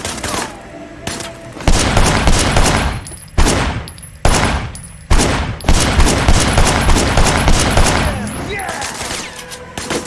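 Gunfire in the PS4 game Sleeping Dogs: loud repeated bursts of rapid shots come in clusters separated by short pauses, close and dominant throughout, with a voice speaking at moments between the volleys.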